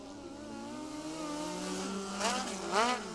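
A USAC National Midget race car runs a qualifying lap, its high engine whine rising and falling in pitch through the turns, with brief louder revving swells near the end, heard from a distance.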